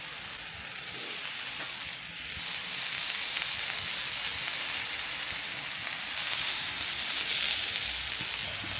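A steak sizzles in a pizza oven, giving a steady, close frying hiss that holds at an even level throughout with no talking.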